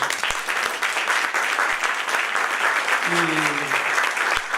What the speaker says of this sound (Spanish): Pediría un aplauso para él.